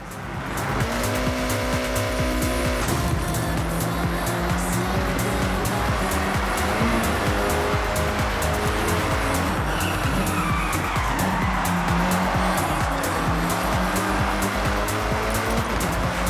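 Race cars in Forza Horizon 6 tear around a dockside course, engines roaring continuously with repeated tire skids and squeals, loud and sustained with no talking.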